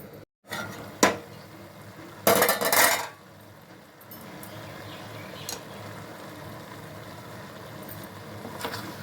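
A lid goes onto a pan of cucumber and tomato pieces left to cook, with a sharp metal clink followed by a louder rattling clatter, then a quiet steady simmer, and nobody speaking.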